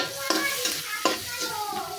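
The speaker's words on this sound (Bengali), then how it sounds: "এই যে পেঁয়াজ কাঁচামরিচটা ভাজা ভাজা হয়ে গেছে" Onion and green chilli fry in oil in a large pan, a close, hissing sizzle with a couple of sharp stirring scrapes, alone with no talk.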